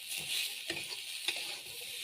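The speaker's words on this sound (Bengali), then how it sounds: "এখন দেব আমি নুন হলুদ দিয়ে এটাকে ভাজবো ভালো করে।" Broccoli fries in hot oil with salt and turmeric, giving a steady close sizzle with a few scraping stirs and no voices.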